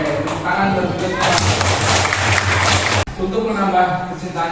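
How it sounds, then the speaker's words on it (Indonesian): A group in a classroom gives a brief burst of hand clapping for about two seconds that stops abruptly, with voices speaking before and after. "Oke, tepuk tangan buat kita."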